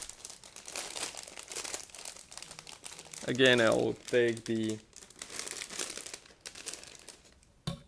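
Crisp plastic crinkling in a few bursts as a plastic parts bag from an ICM 1/24 S.W.A.T. Team model kit is opened, close to the mic, with a person talking quietly before and after.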